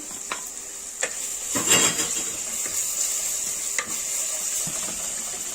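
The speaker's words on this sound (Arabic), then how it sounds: "هشوحها كده اديها تشويحه حلوه" Finely minced ingredients and garlic sautéing in a pan, a steady bright sizzle throughout with a few stirring scrapes and a louder burst of frying near the start.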